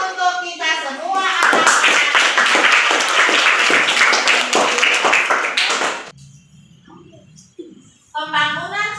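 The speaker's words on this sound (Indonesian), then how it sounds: "Tepuk tangan untuk kita semua" Group applause from a classroom of participants, with a voice before the dense clapping, then the clapping stops at about six seconds, leaving quiet room noise, and a voice returns at the end.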